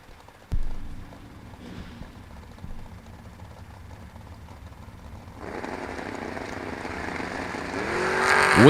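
Drag race cars in a heads-up race launch from the line, starting as a faint idle rumble after a sharp bang and building into a loud, rising roar of accelerating engines.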